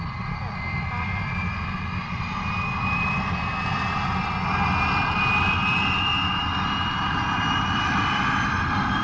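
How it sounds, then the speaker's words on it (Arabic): A Boeing 707 jet airliner in flight at 20,000 feet on a morning route from Damascus to New York, heard as a steady, loud cabin engine roar and whine with speech over it. "على متن طائرتها النفاثة بوينغ 707 في رحلتها الصباحية المعتادة من دمشق إلى نيويورك"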